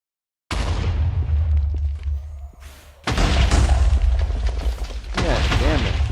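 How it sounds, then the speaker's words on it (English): Loud explosions in the modded Minecraft skyblock game erupt in two big blasts, each followed by crackling debris and rumbling that fills the whole clip. "so we don't have to be hit by the explosion."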